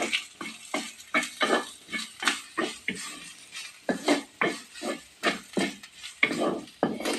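Curry leaves and panikoorka chammanthi ingredients being sautéed in a pan, heard as a steady rhythm of close spatula scrapes and stirs with soft sizzling underneath, no talking.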